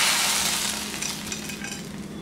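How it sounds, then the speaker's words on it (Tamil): Golden fried cashews tipped into a pan of idli upma and stirred in, giving a soft steady sizzle with scraping stir sounds close by, no voices. "நாலு முந்திரி பருப்பை பொன்னிறமாக ஃப்ரை பண்ணி எடுத்துக்கலாம் அவ்வளோதான் இதை வந்து இந்த இட்லி உப்புமால சேர்த்துக்கலாம்"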